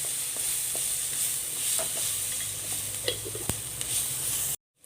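Onions sauté in a hot pan with a loud, continuous sizzle and occasional scrapes and taps of a stirring spoon, close by, before the sound cuts off abruptly at the end.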